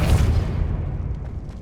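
A Confringo blast spell explodes in Hogwarts Legacy, a loud deep boom that rolls off into a fading rumble, heard alone with no talking.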